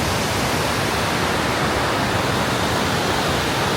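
A waterfall seen from a viewpoint in Quebec gives a constant, broad, hissing roar of falling water, steady and fairly loud throughout, with no voices.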